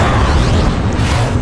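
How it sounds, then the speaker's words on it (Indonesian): A large ammunition depot blows up in a dubbed Voltron cartoon, a dense, sustained rumbling blast that fills the whole moment without letup, loud and close with no voices over it. "Pusat amunisi meledak dengan dahsyat."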